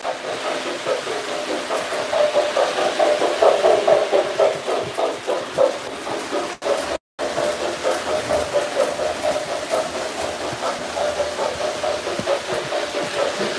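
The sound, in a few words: train engine running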